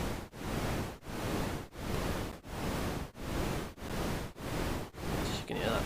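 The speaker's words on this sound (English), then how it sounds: "Pretty standard white noise through a low pass and then into a tremolo" Low-passed white noise pulses through a tremolo effect built in Pure Data, a dense rushing hiss swelling and dipping in a regular rhythm about nine times, roughly every 0.7 seconds, loud and steady.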